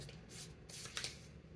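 A deck of oracle cards is shuffled up close. Several quick papery riffling bursts come in a row, fairly soft and with no voice over them.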